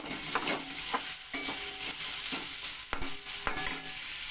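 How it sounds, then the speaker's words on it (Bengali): Flat beans and potatoes sauté with a spice mix in a pan, a soft sizzle broken by rhythmic, fairly loud scrapes and knocks of a spoon stirring, about one stroke every half second. "এবার এটাকে আমি একটু মশলাটাকে দিয়ে ওই শিম আর আলুটাকে একটু হালকা করে কষিয়ে নেব।"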